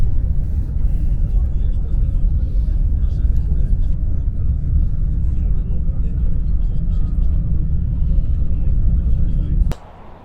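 A bus engine rumbles steadily during a ride to Grindavík, Iceland, a loud continuous low drone heard from inside the vehicle that cuts off sharply near the end.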